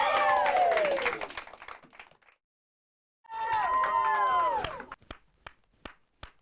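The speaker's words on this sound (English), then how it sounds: "I'm the only one clapping right now." A lone person claps a handful of sharp, separate times near the end, each clap isolated and fairly close, following an earlier ringing, chiming tonal passage.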